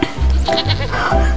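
Etawa goat bleating loudly and close by in three or four wavering calls with short gaps between them, with no talking over them.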